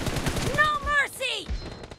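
Gunfire from the PUBG Mobile battle royale game: a short burst of rapid shots with sharp crackling reports, fairly loud over game ambience, followed by another quick flurry.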